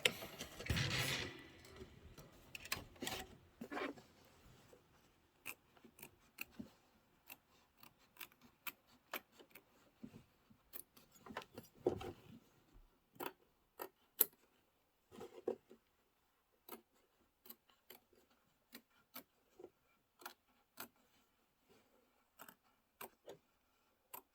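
Scissors trim quilting fabric in a run of faint, sharp snipping clicks, some clustered and some spaced out, in an otherwise quiet room.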